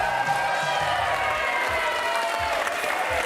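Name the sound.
studio audience applause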